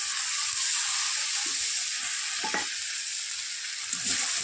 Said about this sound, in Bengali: জিরে বাটা দেওয়ার পর ভাজতে থাকবো